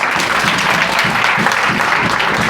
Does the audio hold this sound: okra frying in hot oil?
no